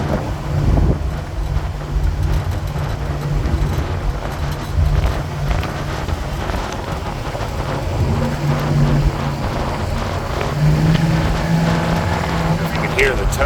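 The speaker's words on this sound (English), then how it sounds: "You can hear the tone of the exhaust." Continuous low rumble of a 1964 Ford Thunderbird convertible's exhaust while driving, with wind buffeting the microphone and a voice speaking faintly underneath.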